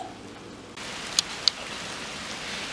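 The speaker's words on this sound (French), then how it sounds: "Entends-tu la pluie ce soir?" Rain falling at night, a steady soft hiss of drops on a surface that swells slightly partway through, with a couple of sharp little ticks standing out from the patter.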